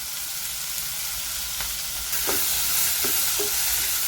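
Melon seeds roasting in a pan alongside tomatoes for a gourd paneer recipe give a loud, continuous sizzle and crackle up close, with a few sharper pops near the end.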